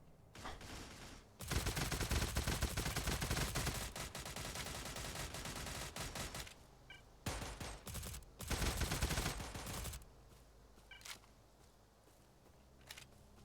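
Rapid bursts of SIG SG 550 rifle fire ring out at a range, a long sustained string followed by a few shorter volleys, loud and close, with quieter gaps between.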